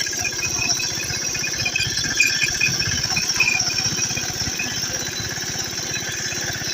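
A small Yuvraj tractor engine runs steadily in a field during harrowing, a close, continuous rattling drone with a dense low-end chug that holds even throughout.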